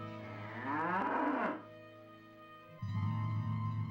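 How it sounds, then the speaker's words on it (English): A cow lows once in the PlayStation version of Diablo, a loud bellowing moo over the first half, then a low steady drone that swells back up toward the end. "Yep, that's a cow, all right."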